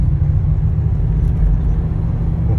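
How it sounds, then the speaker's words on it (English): A deep, steady sports car engine rumble fills the space, loud and continuous, with a throaty low growl and no clear revving. "And Matt's car is really loud."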